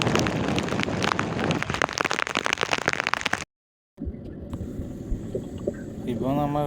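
Heavy rain driven by strong wind lashes a small fishing boat at sea, a dense loud hiss for about three seconds that cuts out briefly, then returns softer beneath someone talking.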